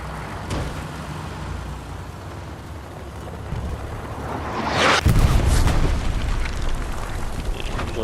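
Artillery shell exploding in the WWII game Hell Let Loose, a loud close boom that bursts out suddenly over a rumbling battlefield background and trails off into sustained noise.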